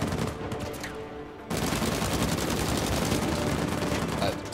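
Heavy gunfire from a powerful gun in Uncharted 4, first in short bursts, then a dense, continuous loud barrage of shots filling the second half.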